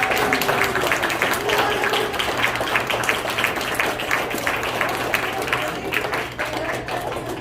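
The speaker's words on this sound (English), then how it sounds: "please, everybody, give them a round of applause" Wedding guests applaud the newly married couple right after the kiss, a sustained wash of many hands clapping at close range.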